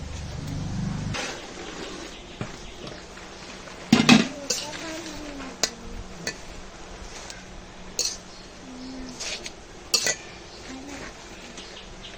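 A lid clanks onto a wok of cooking mixed greens amid scattered metallic clinks and knocks of pots and utensils, close by with sparse voice in between.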